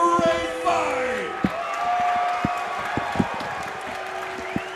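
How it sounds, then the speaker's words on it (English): Crowd at an amateur MMA fight night applauding and cheering after a first-round armbar finish, with a swell of clapping and shouts that fades under a long announcer-style voice and scattered sharp claps. "one more round of applause for a great fight"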